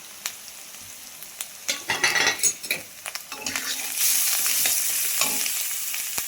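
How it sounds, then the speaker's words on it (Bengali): Onion paste with turmeric, salt, chili and cumin powders sizzles in a pan while a utensil scrapes and clatters through it, bursts of stirring giving way to a steady, louder hiss near the end. "দেখো পেঁয়াজটা ভাজা হয়ে গিয়েছে। তো আমি দিয়ে দিলাম হলুদ, নুন, লঙ্কা গুঁড়ো, জিরে গুঁড়ো"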